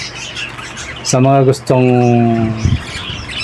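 Pet birds in a small aviary let out two loud, harsh squawking calls in quick succession, close by, while someone talks nearby.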